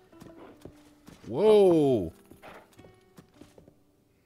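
Horse hooves clip-clop at a steady walking pace in Zelda Tears of the Kingdom, with a loud neigh rising in the middle; players talk over the hoofbeats throughout.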